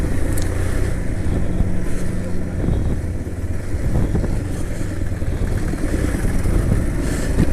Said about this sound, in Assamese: এতিয়া বলে সিওলো বাইকখন লৈছো মাইকটো টেষ্ট কৰিছো